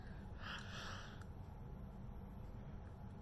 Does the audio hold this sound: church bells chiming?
no